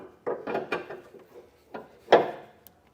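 A few short, close mechanical clicks and scrapes as a bolt is tightened down on a Firestone Ride-Rite rear air helper spring, irregularly spaced with quiet gaps, ending in one sharper rattle.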